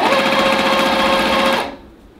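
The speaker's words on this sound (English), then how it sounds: "I'm going to hit start. I'm going to stitch down to the point." A sewing machine stitches at high speed with a loud, even, whirring buzz of the needle. It runs for under two seconds, then the motor stops and only a faint room hum is left.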